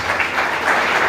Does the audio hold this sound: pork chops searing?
no